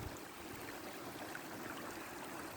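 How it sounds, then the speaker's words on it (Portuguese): Rainwater runs downhill after a heavy rain in cold weather, a steady broadband rush and trickle like a small stream, close and continuous with no talk. "E aqui vai descendo água, olha."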